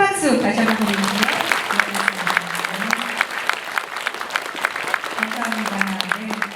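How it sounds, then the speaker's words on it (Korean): An audience at a Gyeongsangnam-do mental health day ceremony claps steadily, a dense patter of applause that swells and fades, with a sustained tone lingering underneath. "두 분께 큰 박수 다시 한번 드립니다."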